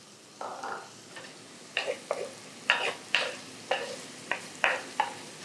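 Onions sautéing in a pan for kadai mushroom, heard as a rhythmic series of about ten short stirring scrapes and sizzle bursts, close and fairly loud, with no voices.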